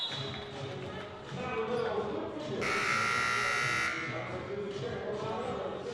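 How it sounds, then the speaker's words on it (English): A loud electronic buzzer blares for just over a second for a technical timeout at a women's university volleyball match in a gym, over crowd noise and a bouncing ball, with people talking around it. "The big technical timeout buzzer sounds"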